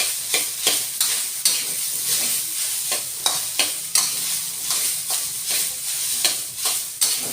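Rice stir-fried in a hot pan for homemade fried rice, giving a steady loud sizzle broken by repeated scraping strokes of the spatula at a regular rhythm, close up with no talking.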